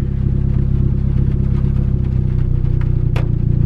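A turbocharged Honda D16Y7 engine idles steadily at close range, a loud, even mechanical drone with a faint rhythmic pulse and a brief click near the end, with no talk.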